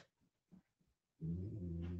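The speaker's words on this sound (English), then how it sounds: "sitting under my chair grumbling and growling like a maniac" A pet growls from under a chair indoors, a few soft low grumbles followed by a louder, sustained close-up growl at the end.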